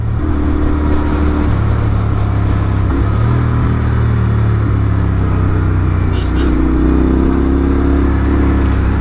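A Royal Enfield Interceptor 650 fitted with an S&S camshaft rumbles with a raspy, throaty exhaust while being ridden, engine note rising and shifting steadily over a continuous loud drone with wind noise.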